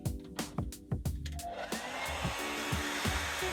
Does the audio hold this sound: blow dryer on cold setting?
yes